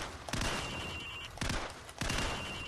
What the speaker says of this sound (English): We're going to shoot the targets.